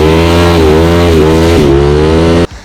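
A KTM 990 Duke with its stock exhaust revs hard in a few quick, rising and falling throttle blips, loud and close, then cuts off abruptly near the end.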